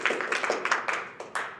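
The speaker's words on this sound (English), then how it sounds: "you can go ahead and clap" An audience at a cross country banquet claps in a brief, close burst of irregular hand claps from a small group, with no talking over it.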